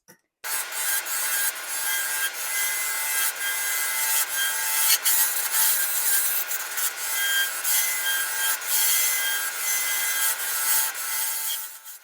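A boring bar hollowing a walnut piece on a lathe, a continuous close hissing, rubbing scrape of the cutter in the wood lasting several seconds without pause.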